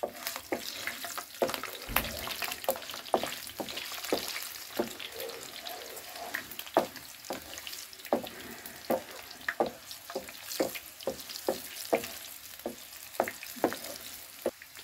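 Garlic and whole Lahori chillies frying in a pan for Punjabi-style mixed dal: a continuous sizzle punctuated by a regular series of sharp spoon scrapes and taps against the pan, close up with no talking.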